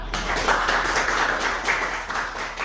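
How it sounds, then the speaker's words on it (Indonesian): A group of students in a Quran recitation class gives a short round of clapping for a classmate, a continuous, even patter of hands filling the room for under three seconds. "Tepuk tangan untuk lintang."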